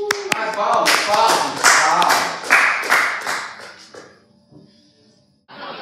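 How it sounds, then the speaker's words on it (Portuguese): Comedy show audience applauding as a comedian is introduced: crisp, close hand claps that build briefly, then thin out and fade to near silence within about five seconds. "Uma salva de palmas para Don Biswas."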